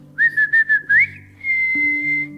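A person whistles a family signal call: a clear, close, melodic tune of four or five quick rising and falling notes, then one long sustained note, with a low steady hum underneath.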